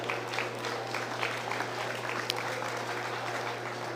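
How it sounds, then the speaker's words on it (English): At a stocker feeder livestock show, a crowd gives a round of applause for kids showing heifers; the clapping is faint and distant, a thin steady patter over a low electrical hum. "Let's give these kids a round of applause."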